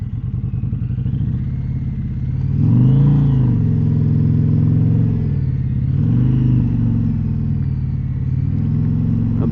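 A motorcycle engine rumbles close by with a low steady idle, then rises in two throttle swells before settling back to a loping idle as the rider comes to a stop.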